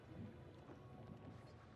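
Thunderstorm and rain in The Dark Pictures horror video game, a faint low rumble of thunder rolling under a steady hiss of falling rain, continuous and distant.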